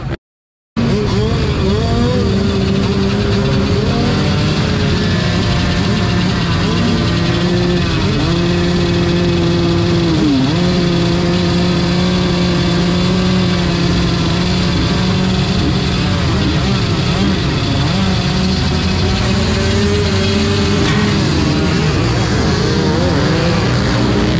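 A motorcycle engine roars loud and steady through a race, recorded up close on the bike, with the pitch rising and falling as the rider shifts and works the throttle.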